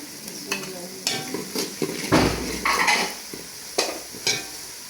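Spinach cooking in a pot for palak gosht, with repeated stirring strokes and scraping, a bubbling or sizzling surge in the middle and soft clinks, close and fairly loud with no talking.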